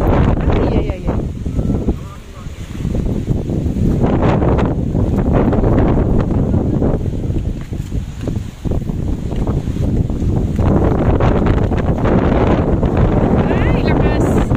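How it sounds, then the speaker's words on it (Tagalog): Strong wind gusting at sea off Boracay, loud steady buffeting that roars across the whole stretch with a brief lull early on, voices talking over it. "Ang lakas kasi ng hangin"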